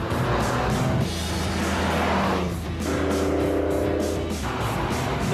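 An Alpine A310 being driven, its engine a steady, loud drone that holds through the clip with a brief dip in the middle, heard from close by with no talk.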